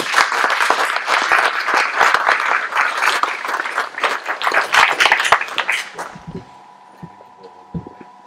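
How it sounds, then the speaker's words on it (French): An audience at a general assembly applauds in a dense burst of clapping that lasts about six seconds, then stops abruptly and leaves a quiet room with a low hum. "Il faut les applaudir."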